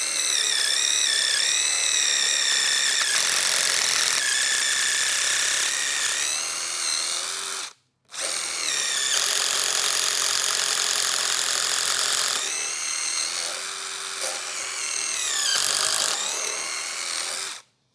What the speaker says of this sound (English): We're just going to drill a hole.